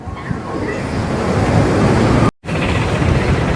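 Water roars from the 26 opened gates of the Nagarjuna Sagar dam, a loud, continuous rushing wash with wind buffeting the microphone, broken by one brief cut-out.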